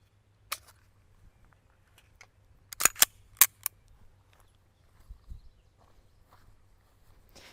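Scattered sharp cracks of an HK P30 9mm pistol being fired at a range, heard as faint, distant single shots spread irregularly over several seconds, including a quick cluster of three or four near the middle.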